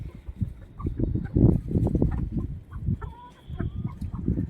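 An injured Aseel rooster clucks close by in a steady run of low, guttural calls, with a few faint higher bird notes in the background.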